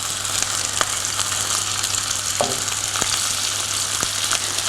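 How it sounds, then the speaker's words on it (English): Sweet chilli beef mix stir frying in a hot pan, a steady close sizzle throughout with occasional scrape and clatter of stirring, no talking. "I'm going to put half the beef mix in. I'm just going to stir fry that off."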